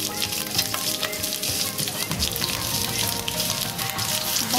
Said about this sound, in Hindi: अब हम इसमें जो ये गार्लिक काट के रखा हुआ है उसको हम डाल देंगे